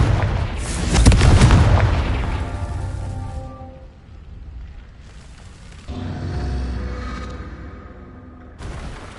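Confringo fire spell from Hogwarts Legacy, a loud booming explosion that rolls out and fades, followed by quieter magical whooshes and a second softer burst, with no talk.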